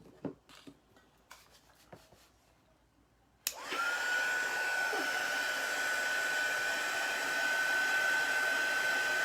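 A hair dryer switches on to dry chalk paste on a pallet board, a steady close whooshing blow with a thin whine that runs continuously after a few soft clicks and taps.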